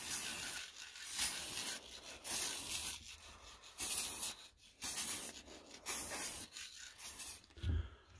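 Clear gloss lacquer is applied to a turned ash bowl in repeated soft rubbing strokes, a rhythmic series of hissing swipes separated by short pauses, close and quiet.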